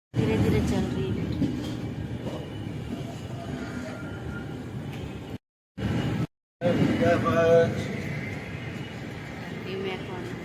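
Passenger train rolling slowly through countryside, a steady rumble and rattle of carriages heard from inside, with a voice talking over it and brief drop-outs.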